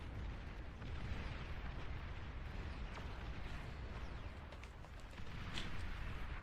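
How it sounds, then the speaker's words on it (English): A rumbling blast from a detonated commander in a video game, a dense roaring wash of noise that stays loud and steady throughout, with faint crackles on top and no clear pauses. "I am going to detonate my commander."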